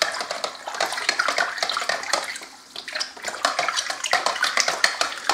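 A hydroponic nutrient solution for pak choi is stirred in water, producing close, continuous sloshing and swirling with light clinks from the stirring utensil and a brief lull midway.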